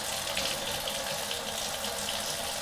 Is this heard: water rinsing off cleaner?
yes